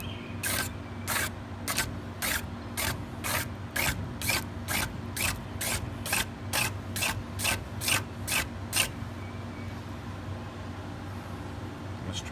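An empty or wet lighter struck over and over, giving a steady run of about sixteen sharp, evenly spaced scraping clicks close to the microphone before stopping, with no talking.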